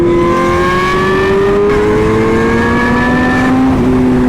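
Lamborghini Aventador SVJ Roadster, a stock V12 making about 770 horsepower, revving loudly and steadily up through the range, its rising engine tone continuous and close for several seconds.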